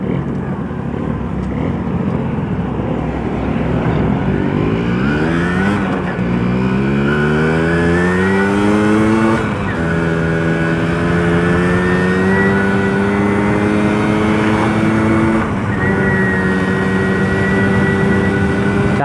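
A Suzuki RC 100 Bravo motorcycle ridden fast at night, its small engine loud and close as it revs up through the gears, pitch climbing, dropping at each shift and holding high at speed, with wind noise throughout.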